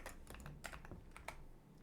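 Quick, light keypresses on a computer keyboard while an equation is entered into a graphing calculator, a steady run of close, crisp taps with no voices.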